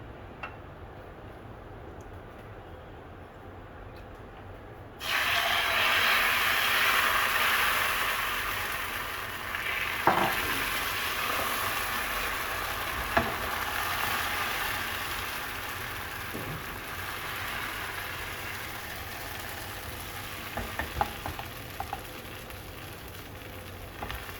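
Wheat dosa cooking on a hot pan hisses and crackles with a steady close sizzle that starts abruptly after a quiet stretch, broken by occasional small taps and pops.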